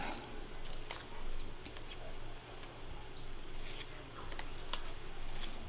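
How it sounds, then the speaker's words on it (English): Scissors trim paper for a mixed media pumpkin artwork, giving a series of light, close snips spread over a steady background hum. "So I'm trying to trim a little bit of that away."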